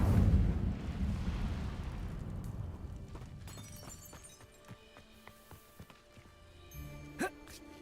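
The Incendio fire spell goes off in Hogwarts Legacy with a heavy whooshing burst that rolls out and fades over a few seconds, followed by scattered crackles, tinkling debris and a sharp snap near the end.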